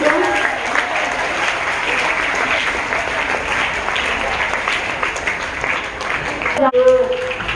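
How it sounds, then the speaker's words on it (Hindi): A crowd at a school Children's Day event applauds two teachers with sustained, even clapping that continues to the end, with a voice briefly heard near the close. "जोरदार तालियों से इन दोनों शिक्षकों का स्वागत कीजिए"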